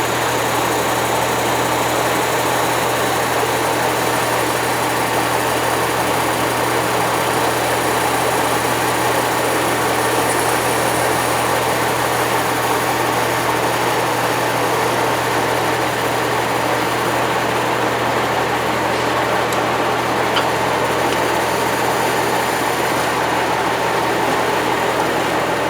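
A loud engine runs steadily throughout, a constant droning hum with strong low tones and broadband rumble, no voices.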